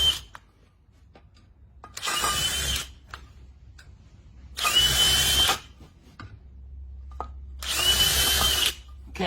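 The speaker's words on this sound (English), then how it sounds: "Do a little pre-drill," A power drill pre-drilling holes for anchor lag screws while installing a base shoe bracket, three separate whirring bursts of about a second each, loud and close, separated by quiet pauses with faint handling clicks.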